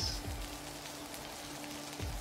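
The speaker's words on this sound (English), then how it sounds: "Water falling from the sky." Rain falling as a sound effect in a narrated adventure, a soft, even patter of drops on a surface, faint and continuous.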